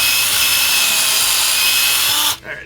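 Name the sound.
drilling into car suspension part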